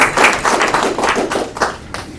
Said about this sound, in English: give yourselves a round of applause because you deserve it.